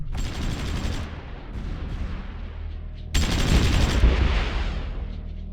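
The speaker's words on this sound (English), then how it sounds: "Attack! All batteries open fire." Artillery batteries firing in the strategy war game Supreme Ruler Ultimate, with two loud, dense bursts of booming gunfire that roll and echo. Each burst fades into a sustained rumbling tail, with no talking.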